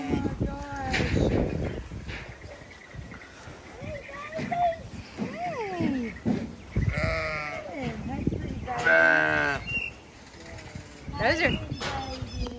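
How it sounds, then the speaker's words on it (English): Sheep bleat close by beside their mother at a farm with goats, the wavering calls rising now and then over lively, excited chatter from people nearby. "The sheep are with mama."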